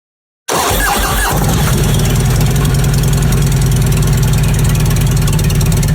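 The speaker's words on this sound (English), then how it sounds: "this is the first time you guys are going to join us for the first startup after we install these Reinhardt pipes" Harley-Davidson Road King bagger with newly fitted Reinhardt exhaust pipes cranks and fires, then settles into a loud, steady, lumpy idle close by with no talk.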